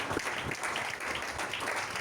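Church congregation applauding together during worship, a dense, steady wash of many hands clapping throughout with no clear pauses.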